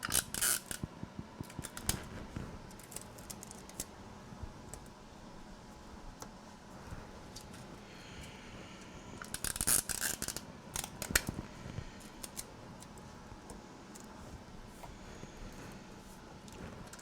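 Scissors cut paper for a scrapbook pouch album in a craft room, heard as close, sharp snipping in bursts with quiet pauses between the cuts.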